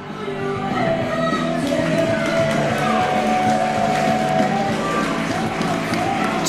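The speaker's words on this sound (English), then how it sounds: "the crowd showing their appreciation to two fantastic female competitors" A wrestling crowd at a women's championship tournament match cheers and applauds its two competitors, a steady, dense roar of clapping and yells that holds at one level throughout, with a commentator's voice faintly underneath.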